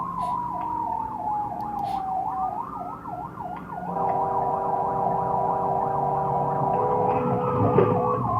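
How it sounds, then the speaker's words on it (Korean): A loud ambulance siren recorded by a car dashcam on the road, wailing then switching to a rapid yelp, close and steady over the hum of traffic. "미국은요, 구급차나 또는 소방차 할 때 소리가 엄청 커요."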